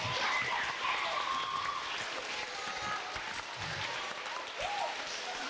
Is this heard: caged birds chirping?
no